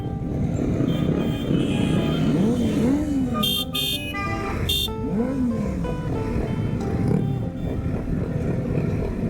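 A group of motorcycles rides together in a Ukrainian moto brotherhood gathering, their steady engine drone filling the scene with rising and falling revs and brief horn-like tones, while voices murmur faintly underneath.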